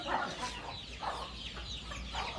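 Chickens cluck steadily in a brooding room housing young chicks, several birds calling at once in repeated short bursts, close and moderately loud with no talking.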